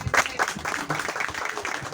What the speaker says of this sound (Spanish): fuerte el aplauso entonces para el hermano Ender Méndez